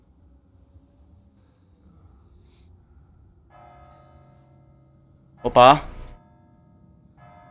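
A church bell in a medieval game tolls a few slow strokes with a long hum between them, followed by a brief shouted exclamation.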